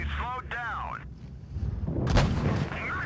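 A deep tank cannon boom in World of Tanks Blitz rolls out loudly with a rumbling tail, following a short in-game chirping effect, while someone talks over the game sound.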